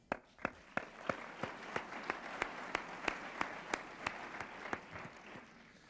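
Scattered applause from a small audience at a 1993 Blockbuster Video event, with distinct individual claps in a loose, steady rhythm that thins out toward the end; no one speaks.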